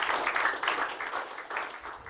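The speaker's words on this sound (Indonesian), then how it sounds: "kalau untuk gitu tepuk tangan buat Anda semua" An audience at a business seminar gives a round of applause, producing a soft, continuous wash of clapping heard at moderate distance for the whole moment.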